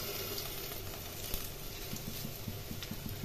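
Bok flower and coriander leaf fritters fry in hot oil, a steady soft sizzle with light crackles and faint patter throughout, close by and fairly quiet.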